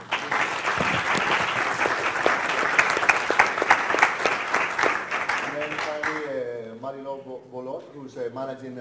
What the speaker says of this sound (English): But also a big applause for Professor Carlos Duarte.